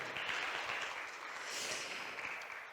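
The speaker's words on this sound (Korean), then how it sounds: "박수 주세요." Audience applause at a Korean statistics workshop, following a presentation by a government official, soft and fairly distant, sustained evenly without talk.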